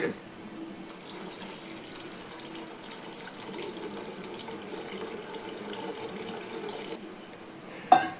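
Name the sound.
pouring tamarind water into fish curry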